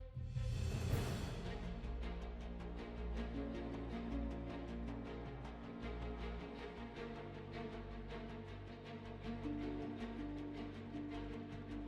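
Dark, steady Spider-Man PS4 web-swinging score with a low droning bed and pulsing rhythmic hits throughout, opening with a bright rushing swoosh; no one speaks.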